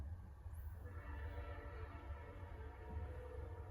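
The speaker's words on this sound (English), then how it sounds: "got a train coming by." A train passes at a distance as a steady low rumble of rolling wheels. A faint high horn-like tone sweeps up near the start, and no voices are heard.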